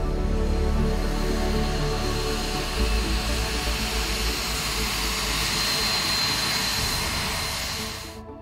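A military jet, a fighter on a training flight, roars loudly on landing at a runway, a steady broad engine rush holding throughout and fading slightly toward the end.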